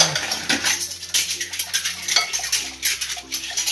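Dishes and cutlery being washed at a home sink, with repeated close clinks and clatters of plates and utensils over running water, busy and uneven with no talk.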